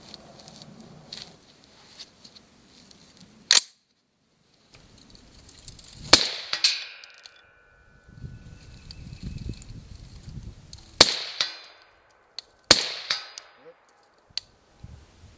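Rifle shots from hand-loaded cartridges fired at a 100-yard target: four sharp, loud cracks spaced several seconds apart, with soft rustling and handling noise between them and no talking.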